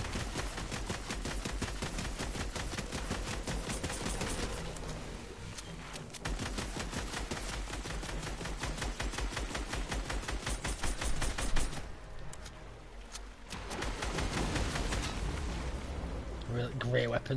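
Dense, rapid gunfire in Fortnite runs almost without a break, loud and close, with brief lulls, while players talk over the shooting.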